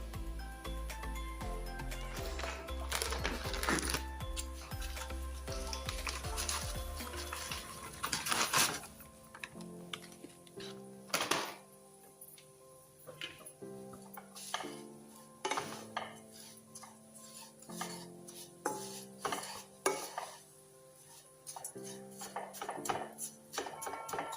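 Clattering utensil scrapes and knocks against a hot kadai while ghee and ingredients fry for semai chomchom, with sizzling texture throughout and repeated sharp stirring strikes in the later part.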